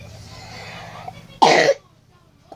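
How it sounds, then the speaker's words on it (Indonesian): A single sharp, harsh cough breaks in close to the microphone after a quiet stretch of low background murmur, then fades back to near silence. "By the way, aku lagi batuk,"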